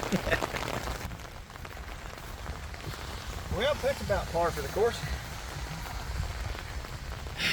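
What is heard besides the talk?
rain falling while working on a truck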